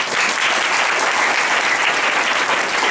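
A church congregation at a ministry gathering breaks into loud, dense applause that stays steady and close throughout.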